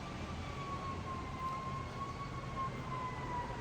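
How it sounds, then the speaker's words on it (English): An emergency vehicle siren sounds outdoors, a thin steady wail held under a broad, continuous roar of background noise at moderate distance. "Can you probably hear the siren? It's loud."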